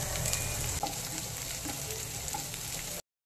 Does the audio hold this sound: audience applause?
no